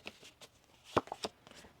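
Soft, quick riffling of cards being shuffled, a few crisp flicks and taps in a short burst, close and quiet with no talking.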